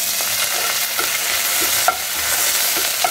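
Shallots, chopped chillies and curry leaves sizzle in hot oil with fenugreek for a tempering, a steady broadband frying hiss with occasional sharp pops and spatters, close and continuous with no talking.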